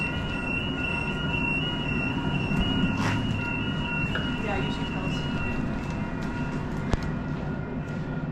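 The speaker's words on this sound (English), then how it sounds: "Yeah, let this train go." A train rolls past on a city rail line on a Sunday, a steady broad rumble with faint horn-like tones and a sharp click near the end, while a person talks over it outdoors.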